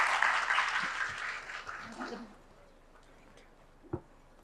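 An audience claps in welcome for a speaker at an academic event, a loud burst of applause that fades out over about two seconds, leaving quiet room tone and a single thump.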